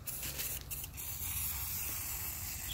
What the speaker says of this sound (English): Spray it right here on the ground real good.